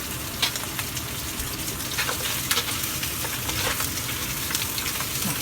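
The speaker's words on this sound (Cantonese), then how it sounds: "就係咁樣煎咯，一路煎咯，煎到 兩邊煎下佢，" Red-bellied fish pan-fried in oil for pumpkin fish soup, with a steady, dense sizzle and crackle throughout and small spatters popping out at close range. No one speaks.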